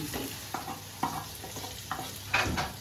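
A spoon stirs and scrapes through sautéing ingredients for chicken biryani, with about five distinct scraping strokes over a soft, steady sizzle in the pan.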